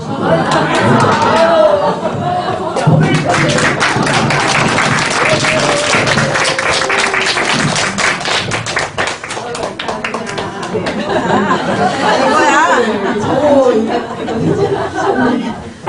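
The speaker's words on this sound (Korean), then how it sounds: "다시 한번 긴 시간 강의해주신 한국인정부 다시 한번 박수 부탁드립니다." Audience at a cooperative training lecture breaks into loud, sustained applause after a long talk, with laughter and chatter mixed in and a voice speaking over parts of the clapping.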